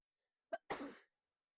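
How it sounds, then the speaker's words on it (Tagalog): A single woman's sneeze, a short sharp intake followed by a breathy burst lasting under half a second, close and alone in silence. "bumahing lang"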